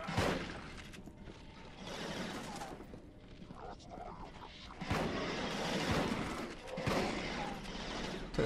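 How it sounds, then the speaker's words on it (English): Shotgun blasts from the video game Resistance: Fall of Man, a few sharp bursts with whooshing and mechanical clatter amid game noise, quiet overall. "Took that shotgun shot like a man."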